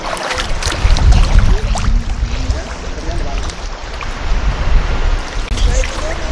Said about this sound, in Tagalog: Hindi malakas ang alon?